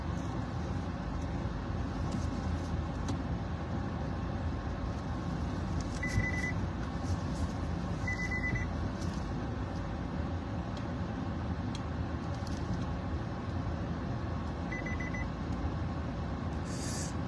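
Car being parked on a street, a steady engine rumble running throughout with a few short electronic beeps and light clicks over it, no talking.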